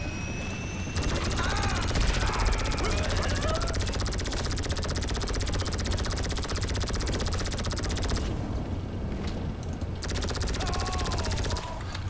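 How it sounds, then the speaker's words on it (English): A helicopter in GTA Online during a super yacht mission gives a steady, loud rotor drone throughout, with rattling bursts of gunfire layered over it and a brief dip near the end. "let's take out the other helicopter here. Helicopter with lasers."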